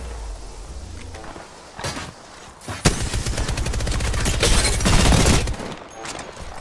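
Automatic gunfire in a video game: a quiet start with a few isolated cracks, then a loud stretch of rapid, evenly spaced shots that build and hold before tapering off.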